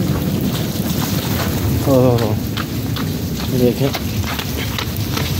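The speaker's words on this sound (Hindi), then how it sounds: "बारिश फुल तेज़ हो रही है" Steady heavy rain roars on a rooftop in Sialkot with scattered drips and spatters, while a person speaks briefly over the downpour.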